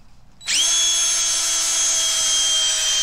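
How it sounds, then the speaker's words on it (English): A handheld power drill spins up abruptly about half a second in, then holds a loud, steady high-pitched whine as it bores a hole during a blower speed control install on a waste oil burner. "As usual, I drilled the hole too small."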